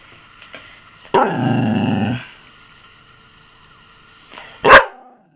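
An English bull terrier lets out a loud, drawn-out growl that lasts about a second, then gives one sharp bark after a short quiet pause, close by in an otherwise still room.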